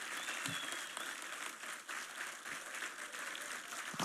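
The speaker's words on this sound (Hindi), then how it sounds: "आज के युग में ऐसे ताली से काम नहीं चलता" Audience applause at a university convocation fills the hall as a steady, dense wash of clapping from a large crowd, continuous and fairly even for the whole stretch with no talk.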